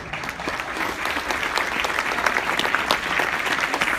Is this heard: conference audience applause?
yes